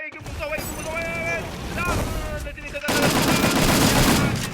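Gunfire in the Free Fire battle royale game during a tournament final, with rapid bursts of shots under continuous excited commentary.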